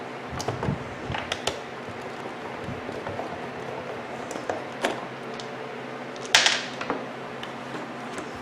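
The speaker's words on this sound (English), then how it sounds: "So I'll open the whole fan. And the 2 screws remove." Screws come out of a Lasko fan casing as it is opened, heard as close, irregular small creaks, clicks and metallic ticks from the screwdriver and plastic housing, plus one sharper rattle near the end.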